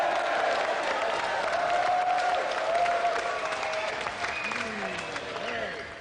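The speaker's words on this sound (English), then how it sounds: "let's have another round of applause for our winner, Sonny Near, and our gallant loser, Emlyn Hu" Studio audience of a television gaming show applauds its winner, a steady wash of clapping with some cheering that holds for several seconds without dropping away.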